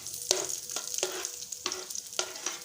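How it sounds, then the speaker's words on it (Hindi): Nuts frying in ghee for chana dal halwa, a steady close sizzle broken by several sharp stirring scrapes spaced about half a second apart, with no voices. "मैं ये नट्स डाल दूँगी। इसमें हम जैसे घी में फ्राई करेंगे।"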